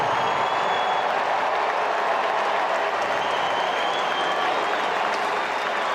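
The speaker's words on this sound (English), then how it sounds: "Bo tipped his cap to the crowd when they applauded him after the video" A baseball stadium crowd applauds for a player, a dense, loud, continuous wash of clapping and cheering that holds steady for several seconds.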